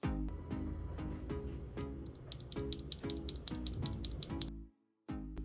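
An RK84 wireless RGB mechanical keyboard with hot-swappable linear RK switches being typed on in a steady run of close, crisp keystrokes, with a brief pause before the typing resumes.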